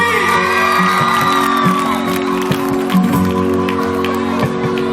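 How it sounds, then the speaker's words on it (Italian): Concert audience at a live outdoor show in Palermo, whooping and cheering with scattered applause while a singer's music carries on underneath. "Applausi!"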